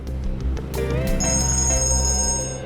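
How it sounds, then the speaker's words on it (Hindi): A phone rings with a bright electronic ringtone, repeating tonal bursts over a low hum, fairly close and with no talk over it. "एक मिनट, फोन आ रहा है।"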